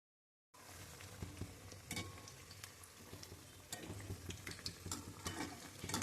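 Food fries in a pan on a medium-low flame in a home kitchen, a steady close crackling sizzle with scattered pops and occasional stirring scrapes, no voices.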